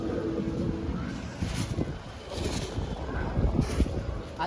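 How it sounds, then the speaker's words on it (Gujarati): Strong wind buffets the microphone outdoors during kite flying at a Gujarati Uttarayan festival, a continuous loud rumbling roar with gusts rising and falling throughout. "આ તો ફૂલ મસ્ત પવન છે."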